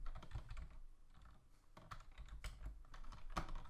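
Rapid keystrokes on a computer keyboard as a project name is typed into planning software, an uneven stream of close, crisp clicks with short pauses over a few seconds.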